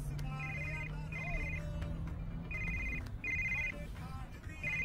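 Phone ringtone on a call attempt, a repeating electronic trill in short bursts with gaps between, fairly quiet beside a low hum and background noise.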